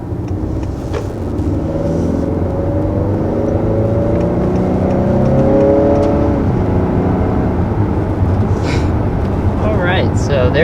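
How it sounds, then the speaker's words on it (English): A 2020 Honda Accord Touring with the 2.0-liter turbo engine accelerating on the road, a steady loud engine drone heard from inside the cabin that rises gradually in pitch, with no break in the sound. "So there's our first acceleration in the 2-liter turbo Honda Accord."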